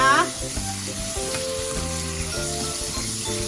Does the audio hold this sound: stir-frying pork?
yes